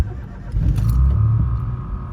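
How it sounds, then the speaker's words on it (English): A Citroen car engine with an immobiliser fault cranks and catches close by, runs roughly for about a second, then dies away into a faint hum. "Starts up for a second and then turns off."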